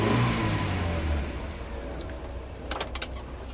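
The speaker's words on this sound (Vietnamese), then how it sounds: "Tiếng động cơ." A Dongben SRM small truck's 1.5-litre petrol engine runs, a steady low rumble that is louder at first and then settles into a quieter idle, with a few brief light clicks near the end.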